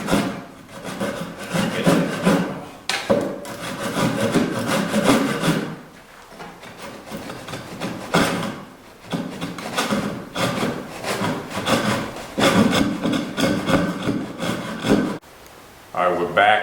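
A hand saw cuts a piece of wood off a wooden skiff at an angle, with steady rasping strokes running through most of the stretch and brief pauses between bursts. There is no speech over it.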